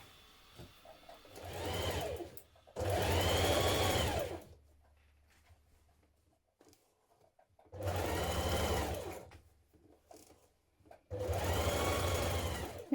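Sewing machine stitching the side seams of a long coat with a 1.5 cm seam allowance, heard as four loud, steady bursts of rapid motor whir separated by quiet pauses, alone without talk.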